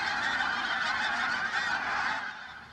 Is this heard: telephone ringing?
no